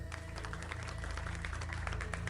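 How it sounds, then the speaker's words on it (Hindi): Cartoon villagers clap in a steady, dense patter of many hands, moderately quiet and continuous, with no voices over it. "सारे गांव वाले तालियां बजाने लगे।"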